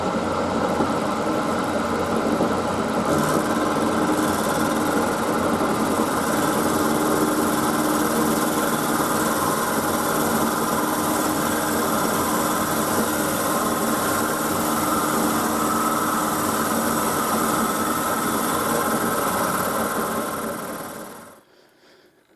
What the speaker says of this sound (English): I've just set up just to mill the ends of the bar